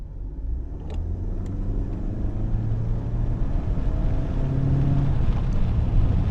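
A 2025 Honda Accord after a turbo leak repair, its engine running steadily while rolling, a low, even hum with mild rising tones and no voices.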